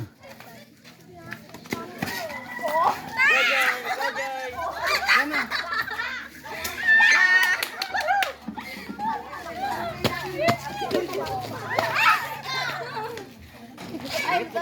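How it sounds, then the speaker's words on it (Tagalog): Children playing outdoors on a dry day without rain, their shouts, chatter and laughter rising and falling continuously at close to middle distance, with adults talking among them. "Laro yung mga bata, oo."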